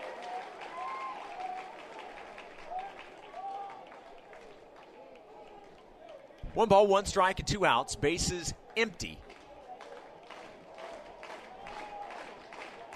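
Crowd at a college baseball game between BYU and Louisiana Tech at the Love Shack in Ruston breaks into a short burst of applause and cheering, rising loudly for about two seconds under a play-by-play announcer's voice before fading back to low crowd murmur.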